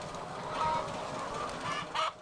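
Hens cluck steadily in a poultry barn for egg production, a dense flock murmur with a few louder calls rising near the end.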